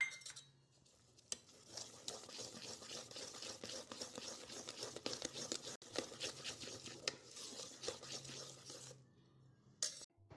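A spoon works through sathu maavu health-mix cake batter with essence and plums in a bowl, giving steady close scraping and clinking strokes for about nine seconds before quieting.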